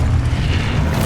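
A blast from the Expulso explosion spell in the Hogwarts Legacy video game, a steady, loud, low-heavy boom that fills the short moment with no talking.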